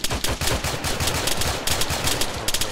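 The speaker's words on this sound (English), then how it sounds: "MG fire on the right, MG fire on the left" Machine gun fire in the military shooter ARMA 3, with loud, rapid automatic bursts rattling continuously at close range and brief gaps between volleys, with no talking.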